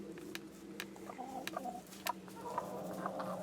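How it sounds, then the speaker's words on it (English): Faint, scattered clucks and short calls from hens and a Welsummer rooster under a steady low hum, with a few sharper bird notes near the end. "you've got a rooster"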